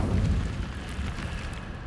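A fiery Incendio spell in Hogwarts Legacy bursts with a dense, roaring whoosh of flame, loud and close, holding steady for a moment before easing slightly.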